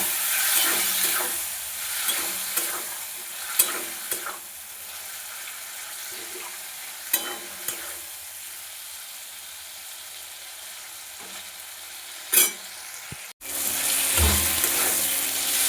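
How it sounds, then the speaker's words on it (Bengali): Spice paste of Kashmiri chili powder with a little water stir-fried in a pan, a low sizzle broken by sharp spatula taps and scrapes, then a sudden louder burst near the end. "মশলাটা খুব ভালোভাবে কষাবো"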